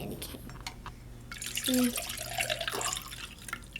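Water is poured in short trickling splashes during cooking, fairly faint and close, with a brief spoken word and some background noise.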